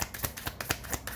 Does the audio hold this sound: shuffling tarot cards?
yes